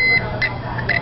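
A Fluke T5-1000 voltage and continuity tester gives short, high electronic beeps while checking continuity on a light bulb, with a few separate chirps in quick succession over a low background hum.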